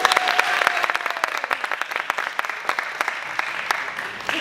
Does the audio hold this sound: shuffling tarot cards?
no